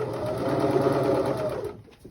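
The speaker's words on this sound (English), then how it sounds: "You're going to sew, and then I'm going to get to a point where I can't keep the fabric going this way." A sewing machine stitches through fabric in a fast, steady mechanical whir close by, running without a break before stopping abruptly.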